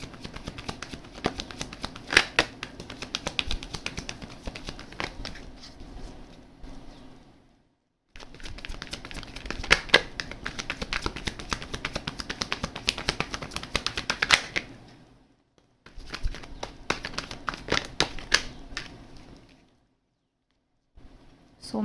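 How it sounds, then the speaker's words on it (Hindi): Tarot cards being shuffled by hand in several bursts of dense riffling and flicking, with brief pauses and a gap near the middle and end; close and moderately loud, with no talking. "3 शफल्स करेंगे गाइस एंड उसके बाद आपके कार्ड्स निकालते हैं।"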